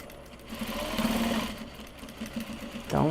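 Sewing machine stitching a Japanese fabric bag near a D-ring: a steady close mechanical whir with rapid needle pulses, rising briefly near the end, no talking.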